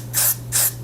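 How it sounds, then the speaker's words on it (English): Hairspray from an aerosol can is applied heavily to a wig's lace at the hairline, two short hissing bursts about a third of a second apart, close and loud over a faint steady hum. "I'm gonna be pretty heavy-handed with the hairspray"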